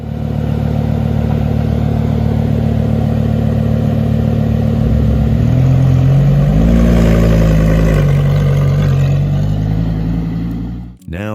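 A Lamborghini's Gallardo-derived V10 engine of about 570 horsepower revs loudly up close, a steady deep drone that climbs in pitch partway through, then holds before cutting off abruptly near the end.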